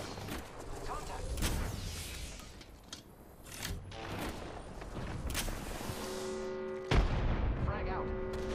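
Gunfire in the video game Apex Legends: repeated sharp shots and heavy booming bursts that overlap throughout, with a louder close impact near the end, all over a dense, busy battle mix.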